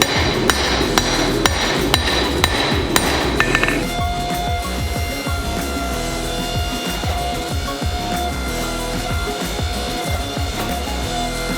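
Rapid, loud hammer blows ring on a Damascus steel bar over an anvil as its edges are beveled, a dense series of sharp strikes for the first few seconds, then a steady metallic ringing hum with fainter scattered taps.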